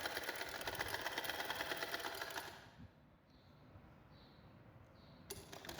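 Sewing machine running steadily as it stitches a sleeve onto the shoulder of a small girl's frock, a close mechanical whir that drops away halfway and returns faintly near the end.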